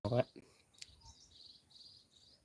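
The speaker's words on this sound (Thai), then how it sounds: "ฟังเสียงธรรมชาติเนาะ มีเสียงนก เสียง จิ้งหรีดเสียงอะไรร้อง ติ๊กติ๊กติ๊กอ่ะ" Faint outdoor ambience in a garden with scattered high chirps of birds and crickets, following a brief loud thump at the start.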